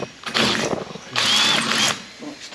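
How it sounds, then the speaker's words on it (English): A power drill bores a larger hole through a pilot hole in camper van work, two loud close bursts of whirring and grinding separated by a brief pause, ending in quieter handling sounds. "before I drill the next hole, I'm actually going to put a bolt in there."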